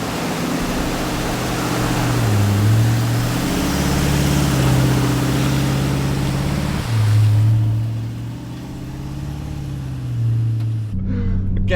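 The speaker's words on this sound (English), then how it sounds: "But how cool is this, driving through a river with the freaking van on?" 4x4 towing a caravan drives through a river on the Gibb River Kalumburu road, a loud steady engine drone rising and falling in pitch over rushing, splashing water.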